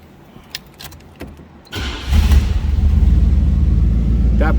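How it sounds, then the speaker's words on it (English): A 1985 Buick Riviera engine cranks and catches after a few faint clicks, then settles into a loud, steady close-up idle rumble. "Let's go ahead and start it up so you can hear it run."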